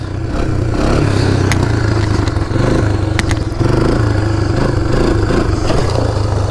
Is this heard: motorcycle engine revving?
yes